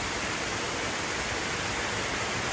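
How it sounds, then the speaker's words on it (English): Cascada de la Virgen waterfall in Baños, Ecuador, gives a steady, dense roar of falling water, even and unbroken throughout. "That's a badass waterfall."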